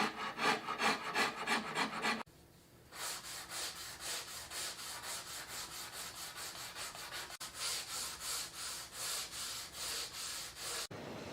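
Wood is carved and shaped on the rocker of a Maloof-style rocking chair with long, rhythmic rasping strokes, steady back-and-forth scraping, fairly quiet and close, with no voices.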